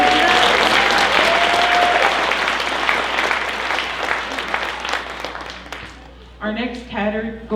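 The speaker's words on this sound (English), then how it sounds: "Can we get a round of applause here?" A crowd at a Ute Indian pow-wow dance performance claps loudly for the drum group, dense sustained applause that slowly thins and fades, before a voice starts talking near the end.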